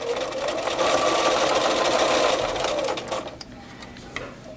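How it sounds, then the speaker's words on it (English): A sewing machine runs steadily, stitching binding straight down from a corner of a quilted potholder with a quarter-inch foot, loud and continuous for about three seconds before slowing and stopping, with no talk over it. "starting from this corner, I'm going to sew straight down."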